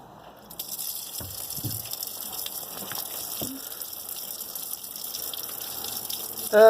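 Water draining from the exhaust of a 2012 Air Nautique boat with a Gen 6 engine block during winterization, a steady soft gushing trickle with occasional faint drips and clinks, ending in a brief louder noise.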